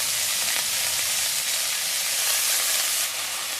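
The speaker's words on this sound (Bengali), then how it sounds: "আলুটাকে নেড়ে চেড়ে ভালো করে দেবো, ভেজে নেব" Potatoes fry and get stirred in a pan with tomato, carrot and cabbage. Steady loud sizzling crackles up close the whole time, with no voices.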